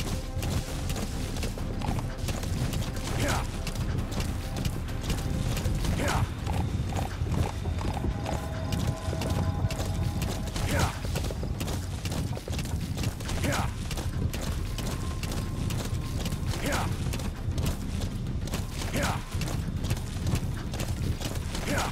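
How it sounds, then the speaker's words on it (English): Rhythmic hoofbeats of a galloping horse in the video game Metal Gear Solid V: The Phantom Pain pound steadily throughout, with mechanical game sounds and occasional talking underneath. "Up your little hoofs as fast as you can hoof"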